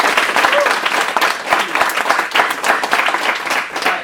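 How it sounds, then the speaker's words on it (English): A conference audience gives a steady, dense round of applause for speaker Andy Parker, a continuous wash of many hands clapping at full volume throughout. "A giant round of applause for Andy,"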